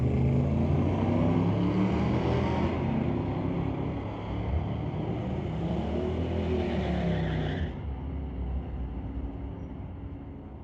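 Street-legal drag racing cars roar down the strip in a sustained, loud engine drone that shifts in pitch as they accelerate away, then drops off toward the end.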